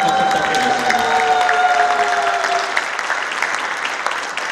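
Audience at a former mayor's book launch event applauding, loud continuous clapping from a packed hall, with a steady tone ringing underneath during the first half before easing off slightly.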